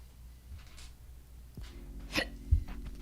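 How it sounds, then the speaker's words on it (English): Hiccups heard during a livestream while a LEGO UCS Razor Crest is being built, a couple of short sharp gulping catches close to the microphone over low background noise. "Look at the hiccups."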